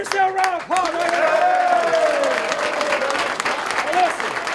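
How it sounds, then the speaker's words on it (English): Arizona football players clap and cheer in the locker room after winning the PAC-12 South, loud sustained applause with voices shouting over it and a brief lull near the start. "Give yourself a round of applause."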